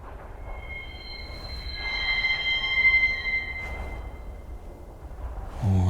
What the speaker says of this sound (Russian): железная дорога, поезд скрипит там тормозами